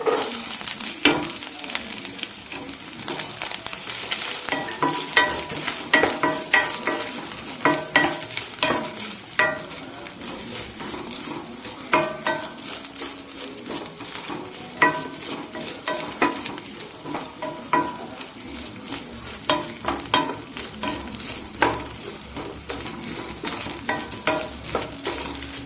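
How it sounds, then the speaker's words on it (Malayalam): Coconut pieces and onion frying in oil in a pan for bitter gourd theeyal, a steady sizzle broken by repeated scraping strokes of a spoon stirring through the pan, close and alone with no talk. "നമ്മുടെ ഉള്ളി ഇവിടെ മൂത്ത് വന്ന് നമുക്കതിലോട്ട് ചെറുതായി അരിഞ്ഞു വെച്ച തേങ്ങാക്കൊത്തിടാം"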